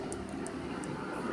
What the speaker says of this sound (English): And now you're going to hear a plane or a helicopter